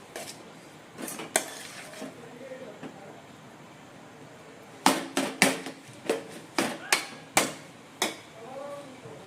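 Noodles are stirred in a pan at home, with a scattered few knocks early on, then a quick run of sharp, close utensil taps and clatters against the pan, and faint talk in the background.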